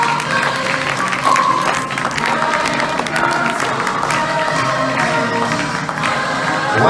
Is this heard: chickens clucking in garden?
no